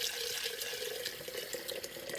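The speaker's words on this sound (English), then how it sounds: "And I'm going to put some water into this jar." Water runs steadily into a glass jar holding half a cup of sunflower seeds, a continuous close splashing and trickling hiss with no voices over it.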